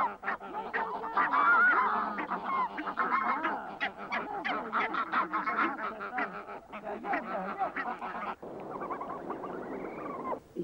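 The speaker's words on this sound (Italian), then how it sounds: "Quell'uomo e le oche si diranno a vicenda" A flock of greylag geese honking continuously, many overlapping calls close by, loud and busy throughout with no pauses.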